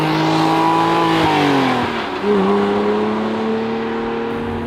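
A 2011 Porsche Boxster Spyder engine drones loudly and nearby as it pulls away in first gear, its pitch dipping briefly with a gear change before climbing steadily again as it accelerates.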